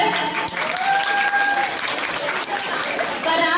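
An audience at a school annual prize distribution ceremony claps for a student. The applause is loud and continuous, with whistle-like tones and some voices mixed in.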